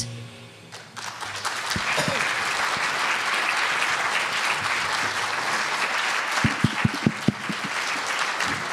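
An audience applauds warmly after a song at a live show, building into a dense, sustained wash of clapping, with a few sharp, close individual claps standing out near the end.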